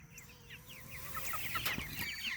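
Farmyard chickens cluck in repeated short calls over a soft, steady background, with several birds heard fairly close and no one talking.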